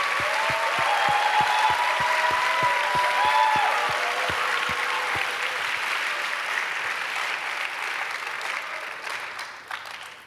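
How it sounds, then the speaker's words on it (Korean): Congregation at a Korean church Friday service claps and applauds, a dense sustained wash of clapping, loud at first and slowly tapering off, with a low rhythmic thump and some sung or spoken tones early on. "All stand, let's give a big applause to them."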